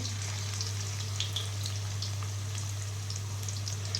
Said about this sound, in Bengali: এখন এখানে ভাজতে বসিয়ে দিয়েছি